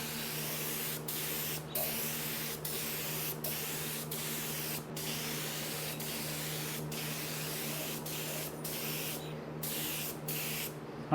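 Primer spray painted onto a KDX 450 motorcycle frame, a long, steady, close hiss of mixed primer broken by a dozen brief pauses as the trigger is released and pressed again.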